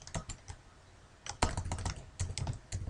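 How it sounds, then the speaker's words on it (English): Typing on a computer keyboard: close, uneven clusters of clicky keystrokes with short pauses, quiet and alone with no talking. "Not doing such a great job typing today."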